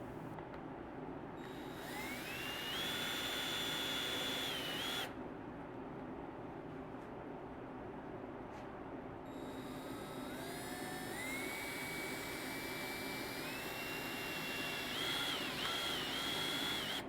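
A power drill drives a screw into a block during a 2017 Ford Expedition door armrest rebuild, a steady high whine running through several long bursts with pitch rising as it speeds up, over a constant hum.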